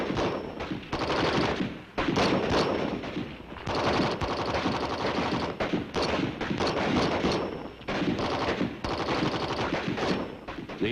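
An M14 rifle, 7.62 mm, firing on full automatic, with dense, continuous bursts of loud gunfire running almost without pause and only brief dips between strings of shots.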